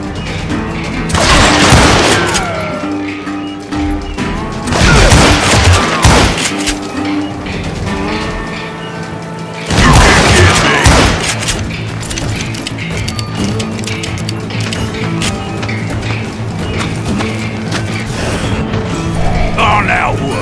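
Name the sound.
gunfire in the video game Call of Juarez: Gunslinger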